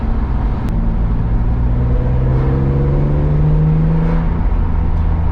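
BMW E46 M3 CSL with SMG gearbox accelerating in S5, a loud steady engine drone rising smoothly in pitch as the revs climb through the gear, close up inside the car with no talking.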